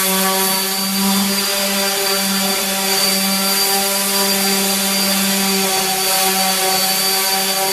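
An electric sander with 120-grit paper works over a wooden garden bench, giving a loud, continuous close-up whine with a steady hum and no pauses.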